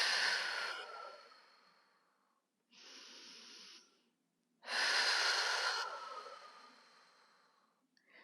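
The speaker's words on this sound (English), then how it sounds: "I'm breathing out all the way through" Long, hissing exhales through the mouth while lying supine and bracing the core to lower the legs, two big breaths with a shorter one between, close and breathy, no talking.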